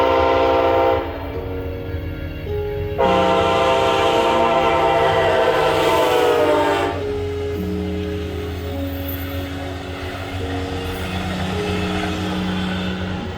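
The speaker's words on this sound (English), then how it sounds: "This next train is Amtrak train P283 on its way to Toronto" An Amtrak passenger train bound for Toronto passes close by with loud, sustained multi-tone horn blasts over a steady rumble of wheels on rails, the horn sounding in several long bursts.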